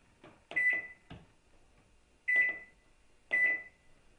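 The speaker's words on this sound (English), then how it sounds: "Place the tray in the microwave. Set the cook timer for 5 minutes." A microwave oven timer being set for lasagna with meat sauce, a few quick key beeps followed by two longer, loud electronic tones spaced about a second apart, close by with no talking.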